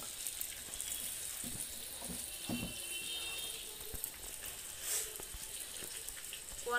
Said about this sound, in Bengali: জল ঝরে দেবো, জল আসে, জলে এসে গেলে আবার একটু পানিটা ছেড়ে দেবো।